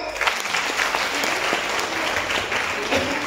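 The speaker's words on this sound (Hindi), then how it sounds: "ताली हो जाए एक बार।" Seminar audience breaks into loud, dense applause, a sustained crowd of clapping hands close by for the whole stretch.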